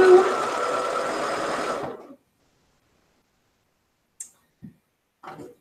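A Bernina B570 Quilter's Edition sewing machine stitches in a steady, close whirring run for about two seconds, then stops, followed by silence and a few faint clicks.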